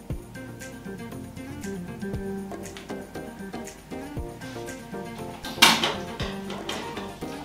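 Scissors snip through hair during a home haircut someone gives themselves, with scattered light metallic clicks and one sharper, louder cut near the end, close by with no voices.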